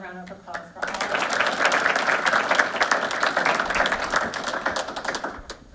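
Applause at a school board of education meeting starts after a brief spoken line, then continuous clapping from a roomful of people that gradually thins toward the end.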